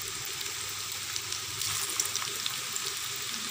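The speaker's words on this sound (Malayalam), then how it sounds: "ഈ എണ്ണ ചൂടാകുമ്പോൾ ഈ ഓരോ ബോളും ഇതിലിട്ട് കൊടുക്കാം" Small balls of watermelon rind sizzle and crackle as they fry in hot oil, a close, continuous bubbling hiss with scattered sharper pops and no talking.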